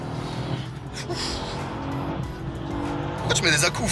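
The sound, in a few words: Mercedes S63 tires squealing during launch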